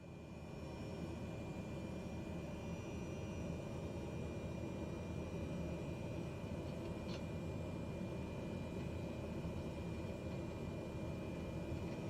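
Simulated Cessna 208B turboprop taxiing and turning on the ground in Microsoft Flight Simulator, a steady, low engine drone with a faint whine, quiet and unbroken throughout.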